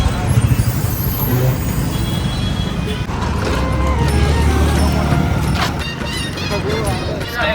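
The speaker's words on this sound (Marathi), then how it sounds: "जाम ट्रॅफिक आहे इथं, दुर्ला पण जाम आहे." Busy jammed road traffic during a Sai palkhi pilgrimage walk from Dadar to Shirdi, with a steady rumble of idling cars, trucks and buses, engine drone and a hiss like an air brake, heard close and continuous.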